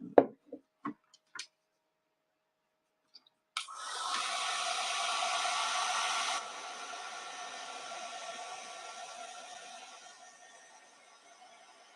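A hair dryer blows on wet craft paint, starting after a few light taps and knocks, running as a steady loud whoosh, then easing to a softer, lower hum for the remaining seconds, with no talk.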